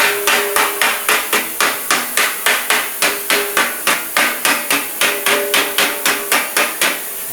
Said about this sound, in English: Push the metal into the center.